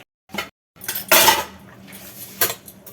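A spoon stirring sugar, salt and turmeric in a pan, giving a few sharp metallic scrapes and clinks in short bursts with brief silences between.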